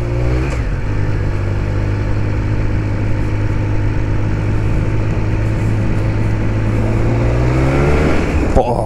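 A 2021 Triumph Speed Triple RS motorcycle pulls hard under acceleration, its loud, close engine note droning steadily and rising in pitch through the run, then dropping sharply at the end.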